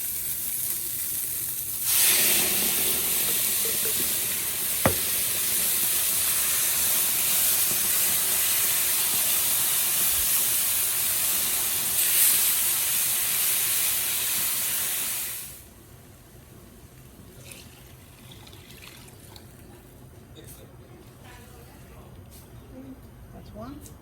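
Tomato dropped into a hot pan for a beef and vegetable soup sets off a loud, steady sizzle and hiss that runs for several seconds, then cuts off abruptly, leaving only quiet background clatter.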